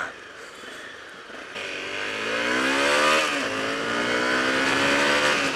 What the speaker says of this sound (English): I love that sort of throaty noise you get from 4-strokes.